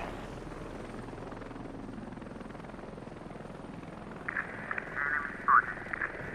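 Steady rotor thump and engine whine of a tier 3 door-gunner helicopter in the combat game Heliborne, a continuous mid-level drone with brief louder interface chirps near the end.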